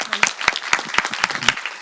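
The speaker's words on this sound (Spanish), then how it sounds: "Un aplauso gigante." A talk audience applauds steadily at an animation conference event, with dense, sustained clapping and sharp individual claps standing out close by throughout.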